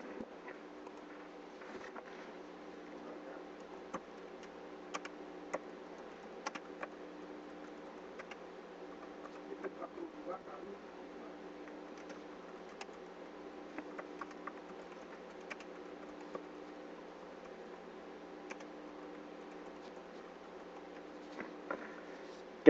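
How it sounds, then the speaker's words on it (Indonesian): Quiet, steady typing on a computer keyboard, soft irregular key clicks continuing throughout with occasional louder taps, no voices. "Oke, saya bantu dengan mengetik ya."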